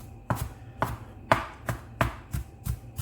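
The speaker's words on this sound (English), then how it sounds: "Just roughly chop it at first." A knife chops herbs such as parsley on a cutting board while preparing chicken Kiev, six sharp, evenly spaced chops sounding close and loud with no talking.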